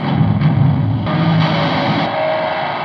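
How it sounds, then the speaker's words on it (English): Electrical hum and buzzy noise from a Blackstar HT100 amp into a Celestion V30 2x12 cabinet, miked with an SM57, a steady loud drone with slight shifts. "record that kind of electrical hum sound"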